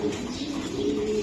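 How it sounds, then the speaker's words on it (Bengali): Racing pigeons, top-quality club-raced squabs, give a low throaty cooing that hums steadily through a short moment, close by and fairly loud against a room background. "এগুলো টপ কোয়ালিটি রেসি কবুতর ভাই, রেস করার কবুতর এটি।"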